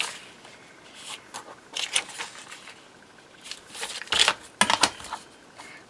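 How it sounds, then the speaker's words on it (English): Book page paper is torn along a straight edge ruler, giving soft, scratchy ripping bursts that grow louder near the end, close by with no talk. "I'm going to use my straight edge ruler. I'm just going to rip a piece of this, and then I'm just going to rip along the bottom."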